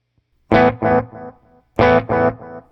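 Guitar through a delay pedal set to more repeats: two plucked notes ring out, then their echoes trail off quieter and quieter before the pair sounds again and starts fading once more, alone with no talking.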